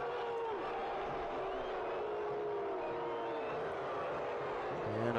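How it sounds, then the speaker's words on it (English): A soccer match crowd in a stadium roars and murmurs in a broad, steady wash of distant voices, swelling slightly near the end. "you're just hearing the excitement, the anticipation, and the hope within the crowd as Obregon Jr. goes down."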